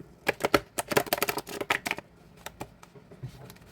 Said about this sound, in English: I will shuffle it for you.